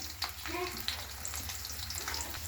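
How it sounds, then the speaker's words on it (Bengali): Chopped onion fries in a hot pan with steady, close sizzling and crackle, and a few brief clinks of stirring over the top. "একটু পেঁয়াজ কুচি দিয়ে দিলাম"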